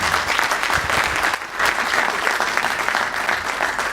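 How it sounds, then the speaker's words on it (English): Audience applause at an Afghan cultural event welcoming a mayor to the stage, loud sustained clapping from a large crowd, with a brief dip midway before resuming. "Can we give a round of applause to Mayor of Khara?"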